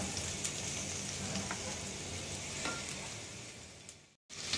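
Ginger garlic paste fries in a pan for Sindhi kadhi, giving a faint, even sizzle with a few small crackles, close by and alone, cutting off briefly near the end.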